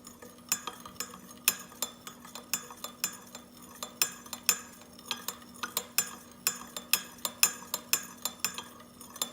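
A utensil stirring fragrance oil through melted candle wax in a container, giving steady rhythmic clinks and scrapes against the vessel, close and clear with no talking.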